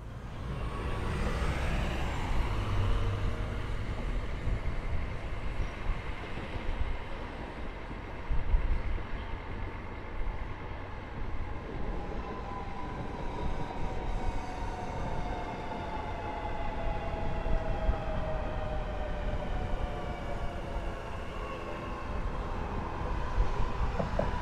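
A Sydney Metro train between Tallawong and Bella Vista runs over automatically switched points, giving a steady, loud rolling rumble with rising and falling motor whine and occasional wheel clatter heard from on board.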